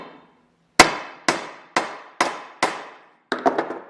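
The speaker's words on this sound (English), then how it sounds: "Now I'm going to just give it a few hammer hits to flatten it out" Six hammer strikes flattening a metal elevator part for an experimental Bearhawk airplane, sharp ringing hits in a steady rhythm followed by a quick cluster of lighter taps, close and clear.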